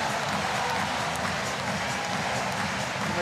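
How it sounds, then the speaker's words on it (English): Basketball crowd at the FIBA AfroBasket 2017 final between Nigeria and Tunisia cheering and applauding, a dense steady roar of noise and clapping that fills the whole stretch without breaks. "And the crowd are not only on their feet,"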